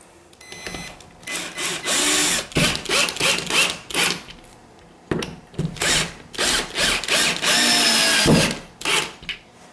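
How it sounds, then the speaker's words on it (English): A power drill pre-drilling screw holes for a handrail whirs in repeated short bursts, revving up and stopping several times, close and loud with brief pauses between runs. "You should probably pre-drill for those as well."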